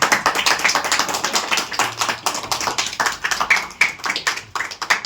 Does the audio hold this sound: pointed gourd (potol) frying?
no